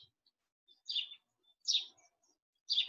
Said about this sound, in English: the songs of the birds and the insects